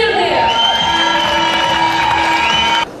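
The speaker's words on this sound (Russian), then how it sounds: "Аплодисменты!" Applause and cheering from an audience at a police family awards event, loud and close, with a sustained whoop and shouts over the clapping before it cuts off abruptly.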